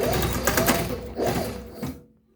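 Austech SK-2BL20 long-arm walking-foot heavy-duty sewing machine stitching, a loud close rapid mechanical chatter that surges twice and then stops abruptly.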